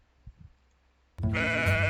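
A sheep bleats loudly and close by, a single sustained quavering call that starts abruptly after a near-silent stretch with a couple of faint soft thumps.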